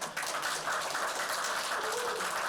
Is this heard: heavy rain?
no